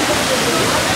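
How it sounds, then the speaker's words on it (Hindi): Kempty Falls in Mussoorie roars loudly up close, a dense unbroken rush of falling water as someone walks into the spray, with voices faintly present beneath the torrent. "केम्प्टी वाटरफॉल के अंदर जा रहे हैं, देखते हैं"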